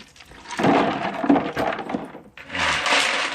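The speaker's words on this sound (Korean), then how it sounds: "이런 돌멩이를 제가 깔아주고 있어요" Stones and pebbles being laid into a freshwater eel tank, with clattering, knocking rattles over about two seconds, a short pause, then more scraping and shifting of stones, fairly close and loud.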